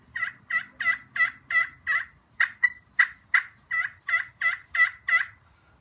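A hand-operated turkey call mimics a hen's high-pitched yelps: a rapid, evenly spaced run of about fifteen sharp, nasal notes, loud and close, with no voices.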